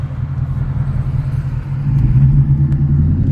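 A 2024 Ford Mustang GT S650 with an X-pipe and muffler delete idles with a deep, steady exhaust rumble that swells slightly louder partway through, close and with no talking.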